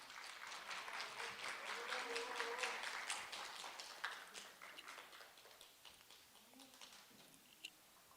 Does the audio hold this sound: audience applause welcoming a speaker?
yes